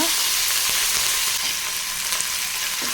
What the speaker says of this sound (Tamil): நல்லா கோல்டன் கலர் வர வரைய ஃப்ரை பண்ணி விட்டுக்கோங்க